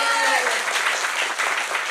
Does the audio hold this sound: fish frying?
no